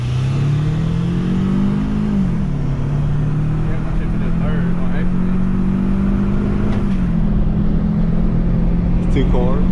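A Toyota Camry pulling at full throttle during a street race, its engine droning loud and close with a rising pitch that steps after a shift, while people talk over it inside the car.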